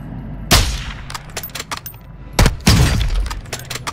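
Sniper rifle gunfire in the video game Warzone 2.0, with two loud, sharp shots about two seconds apart followed by scattered smaller cracks and impacts.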